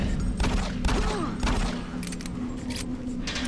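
Gunshots in the DOOM 3 video game, heavy booming blasts mixed with thuds and clanking, dense and loud throughout, over a continuous low game hum with some voice in the mix.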